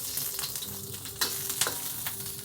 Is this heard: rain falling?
no